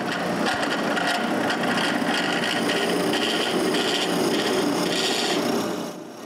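A straight piece of wood being cut with steady, continuous rasping saw strokes, loud and close throughout with no talk, fading out at the very end.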